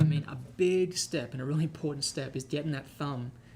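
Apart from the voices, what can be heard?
No distinct noise like a dog, phone or traffic.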